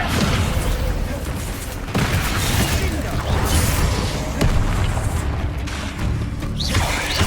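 Spell explosions from Hogwarts Legacy gameplay, a dense, continuous barrage of booming blasts and crashes with sharp hits around two and four and a half seconds, under a voice calling out spell names.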